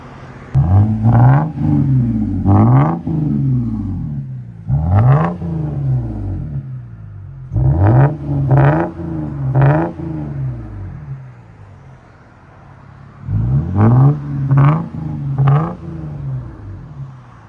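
A 1998-2005 Lexus GS300 3.0L inline-six with a Megan Racing exhaust system revs in repeated bursts as it backs out, rising and falling several times with short pauses between, close and fairly loud, with no talking.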